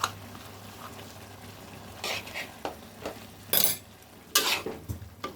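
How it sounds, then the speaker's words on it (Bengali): Taro leaves being stirred with white mustard powder in a pan: intermittent scraping strokes of a utensil, a few sharper clatters, over a faint low sizzle, close and without talk. "এবার ভালো করে মিশিয়ে নিই।"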